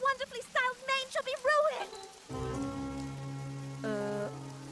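Steady rain pours down as a hiss, first under an animated voice speaking, then under sustained musical tones.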